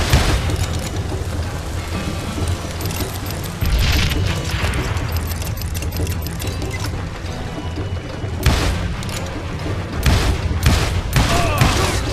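Gunfire rings out in the Western shooter game Call of Juarez: Gunslinger, with repeated loud shots and booms over game music and effects, and a voice speaking at points.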